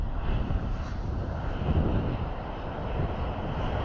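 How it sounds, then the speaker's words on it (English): A Ryanair airliner taxis at Dublin Airport, its engines a steady, loud roar with a broad rushing hiss and some wind buffeting the microphone. "Ryanair definitely seems to travel a lot faster taxiing."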